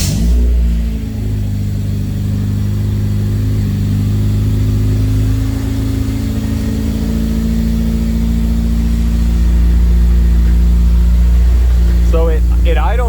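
A K-swapped EG Honda Civic fitted with a Skunk2 exhaust rumbles loudly at a high, steady idle right up close, droning on without a break while someone briefly talks over it near the end.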